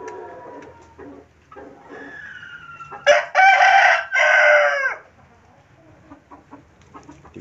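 A rooster lets out one loud, drawn-out crow lasting a couple of seconds, with softer clucking from chickens before and after it.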